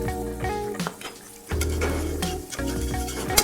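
Garlic sizzling in melted butter in a pan for a carbonara cream pasta, a bright frying hiss with utensil clanks and stirring scrapes, louder after a brief lull.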